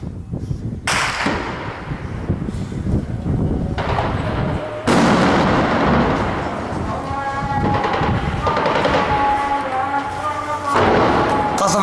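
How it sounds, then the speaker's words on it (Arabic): Heavy artillery shelling in a Homs neighborhood during an April 2012 attack, loud repeated booming explosions and crackling blasts, some close and sharp, with voices faintly underneath. "قصف عنيف في الحي مع تكبيف الجوامع"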